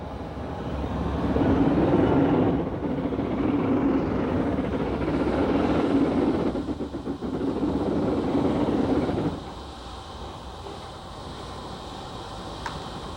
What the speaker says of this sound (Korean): 이 기차는 해방 후인데 옛날 만주철도를 달렸던 구식 기차다